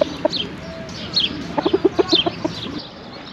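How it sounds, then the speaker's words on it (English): Chickens cluck in a short burst of quick, close calls after a few scattered single clucks, with steady outdoor background noise and no talk. "I'm going to look at these chickens and things"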